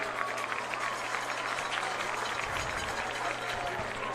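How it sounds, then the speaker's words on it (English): A crowd at a varsity football game against Pebble Hills applauds an injured Spartan player back on the field; steady, moderately distant clapping blends with general crowd noise and some talk. "Injured Spartan back on his field. Round of applause for him."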